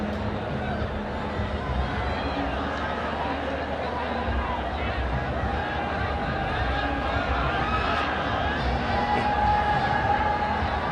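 Loud, anxious crowd roaring continuously at a Nepal women's sports match, a dense, steady wall of voices and cheering with babble throughout.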